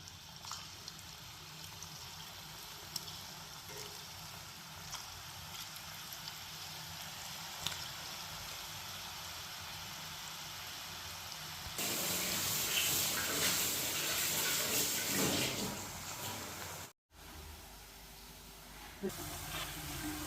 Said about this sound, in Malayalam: ചൂടായ എണ്ണയിലേക്ക് നമുക്ക് കടലമാവ് ഞുള്ളി ഇടാം.